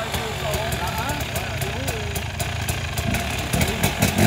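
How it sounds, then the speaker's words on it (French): A dirt bike motorcycle engine idles steadily up close with a rough, throbbing note, then revs harder near the end, while people talk over it. "Le frère de Hugo qui essaye sa moto"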